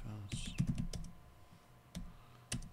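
Computer keyboard keys clicked in a few short bursts during CentOS server configuration, separated by pauses, fairly quiet and close with faint room noise.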